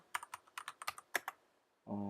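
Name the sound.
typing Java code on a computer keyboard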